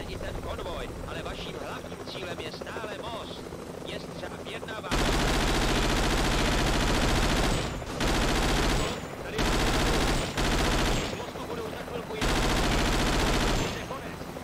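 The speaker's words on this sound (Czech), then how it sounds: "Ono se přitom nedá moc mluvit při těch výstřelech z toho kulometu." Loud bursts of machine gun fire from a Vietcong war video game, arriving in several long volleys with brief gaps between them, preceded by quieter game ambience and talk.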